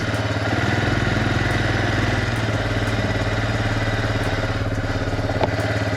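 A Suzuki Eiger QuadRunner four-wheeler ATV engine running close by, given gas after a cold start, with a steady loud throbbing drone and light mechanical clatter, no talk.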